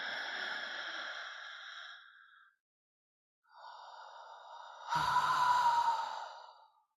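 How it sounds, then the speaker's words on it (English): Slow, deep breathing close to the microphone: a long airy exhale, a pause of silence, then another drawn-out breath ending in a heavier sighing release. "Breathe and really make a note of your breath."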